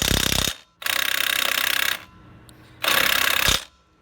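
A Powerbuilt 20V cordless 1/2-inch impact wrench on a lug nut hammers in three loud rattling bursts, each about a second long, separated by short pauses, with no talk.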